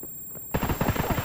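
Gunfire in Escape From Tarkov starts abruptly after a quiet moment, a rapid automatic burst of evenly spaced, punchy shots lasting under a second.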